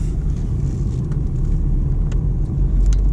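A car driving after accident repairs, with a firm, stiff feel and short gears. Its engine gives a steady, loud, close low rumble with road noise, and nobody talks.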